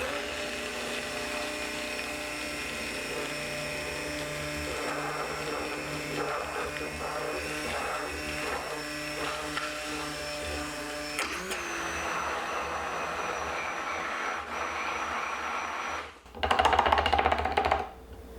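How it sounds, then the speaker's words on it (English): An immersion blender whirs continuously, blending homemade mayonnaise from oil, apple cider vinegar and lemon juice, with a steady buzzing drone and a brief louder, rougher burst near the end as it reaches the bottom. "And an immersion blender."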